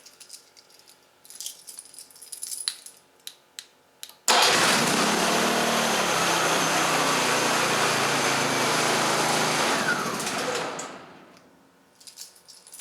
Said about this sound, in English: press and hold this red stop button until the engine stops